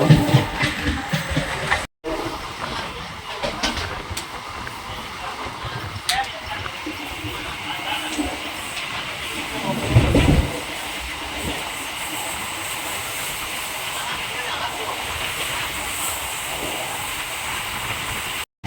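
A MEMU passenger train runs on the Chennai to Tirupati line, a continuous rolling rumble with hiss from the carriage and a brief louder surge around the middle.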